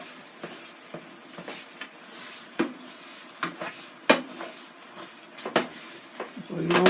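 Ground beef breaking up and frying in a pan, with a steady sizzle under repeated scraping and stirring strokes of a utensil against the pan; sharp clacks come at irregular intervals, moderately close.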